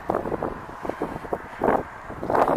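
Gusty wind buffets the microphone in low rumbling surges, swelling louder near the end, with no voices.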